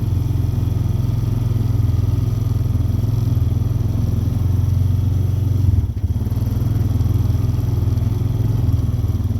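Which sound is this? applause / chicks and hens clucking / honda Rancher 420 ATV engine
honda Rancher 420 ATV engine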